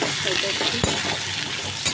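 Vegetables sizzle steadily in a hot pan for Ekadashi shyama rice khichuri, with a sharp scrape or clink of the stirring spoon partway through and a fainter one at the end.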